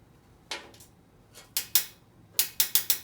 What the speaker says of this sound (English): as it skips over these little cutout spots here, that's the ratcheting mechanism